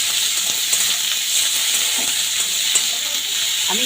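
Food pieces fry in hot oil in a pan while a metal spatula stirs them gently: a steady, close, bright sizzle with soft scrapes and a few small pops, no talking.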